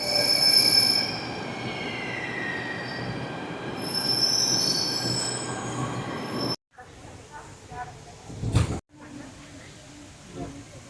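Train pulling into a Delhi station, steel wheels squealing loudly against the rails for several seconds, then a sharp metallic screech burst near the end amid station noise and faint voices.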